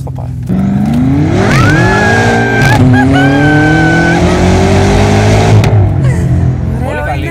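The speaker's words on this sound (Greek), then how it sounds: "Χωρίς ESP να πατήσω από πρώτη να δω πώς θα πάει." A 750-horsepower BMW M5 Stage 2 with ESP off launches hard from first gear on the Autobahn, its engine roaring loud and close as revs climb, with brief dips at the shifts before the pull continues.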